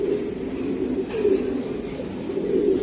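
An Indian kakji pigeon coos in a low, steady, continuous murmur, close by and moderately loud, with faint background noise.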